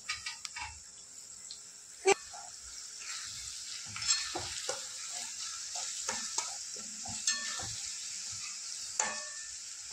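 Ginger-coriander paste, freshly ground, sizzling in hot oil in a kadai while kadai paneer gravy is cooked; a steady close sizzle runs throughout, broken by sharp stirring clicks and scrapes with no talking.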